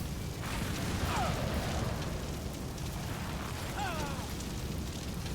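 Explosions during a Final Fantasy XIV boss fight, a dense, noisy rumbling bed of game effects with a couple of brief swooping tones, no clear separate blasts.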